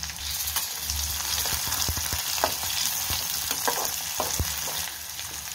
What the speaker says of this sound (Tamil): வெங்காயம் நல்லா வதங்கிச்சு. இப்போ பச்சை மிளகாய் போட்டுக்கலாம்.